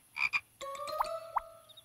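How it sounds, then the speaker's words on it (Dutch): Cartoon frog croaking: a couple of short nasal croaks, then a sustained tonal croak with two quick upward squeaks, close and clear against silence. "Maar dat is wel een kikker, Simon."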